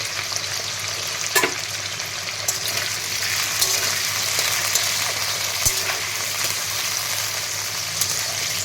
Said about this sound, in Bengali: আলুটাকে বেশ লাল লাল করে ভেজে নেব।